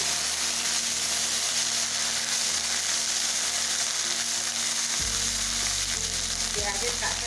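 Onion paste frying in a pan for a Bengali kathla fish curry gives a dense, constant loud sizzle, with low mechanical hum steps underneath and faint stirring scrapes.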